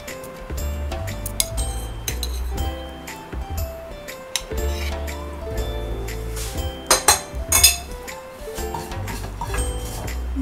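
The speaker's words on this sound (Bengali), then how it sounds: "প্রথমে একটা প্লেটে মাছগুলোকে রাখবো।" Plates and cutlery clink and tap in quick, irregular bursts while tandoori pomfret is set on a plate, with a louder cluster of clatter near the end.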